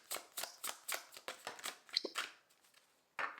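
Deck of tarot-style reading cards shuffled by hand, a quick run of about ten crisp riffling bursts close to the mic, then a brief pause and one final slap.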